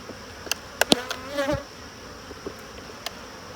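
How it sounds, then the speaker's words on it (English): Honeybees buzzing around an open hive during an inspection of an agitated, defensive colony, with close passing flights swelling and fading over a low background hum, plus a few sharp clicks. "this hive really is significantly feistier than any of my other hives"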